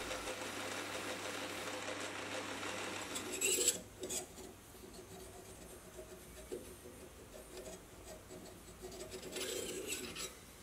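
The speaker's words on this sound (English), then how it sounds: "I'll check the fit and sand down the part that's catching" Sandpaper rasps against a metal die holder part in steady strokes, quiet and close, with a faint machine hum underneath and a short break partway through.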